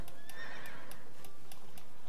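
A horse in the video game Horse Haven World Adventures gives a bright, wavering whinny, loud and close, while light rhythmic clip-clop ticks repeat steadily around it.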